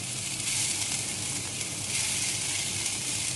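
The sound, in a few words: onion sizzling in ghee in a pan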